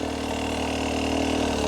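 A dirt bike engine runs steadily for hard enduro riding, a close, loud mid-pitched drone held at an even throttle with no voices.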